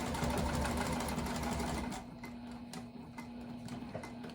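A sewing machine runs steadily while stitching the contrast accent bottom onto a boxed fabric bag, a loud continuous mechanical whir that slows and softens partway through.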